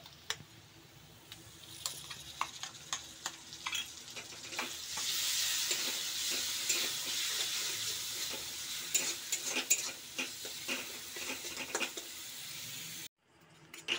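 Onions and spice paste frying in a pan, a steady loud sizzle with scattered stirring scrapes and clicks throughout, briefly cutting out near the end.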